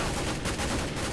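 Close, dense gunfire in CS:GO rattles in a continuous rapid burst that fills the whole short moment.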